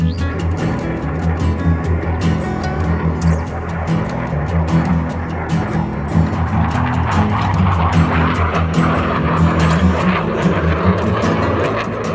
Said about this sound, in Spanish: De repente aparecen varios aviones de caza